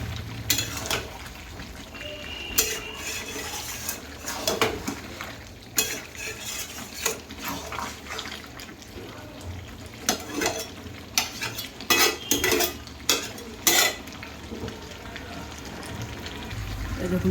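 Chicken curry with potatoes being stir-fried in a pan: a continuous oily sizzle broken by frequent clattering scrapes and knocks of a spoon against the metal, close and busy, with no one talking.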